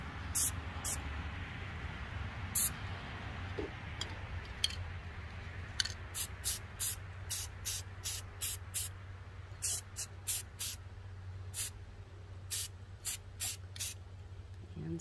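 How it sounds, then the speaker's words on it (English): Spray paint from aerosol cans hitting a tumbler cup in several colors, a run of short hissing bursts that grow rapid and rhythmic toward the end, fairly quiet and close, with no talking. "So I'm just going to randomly spray it with each color."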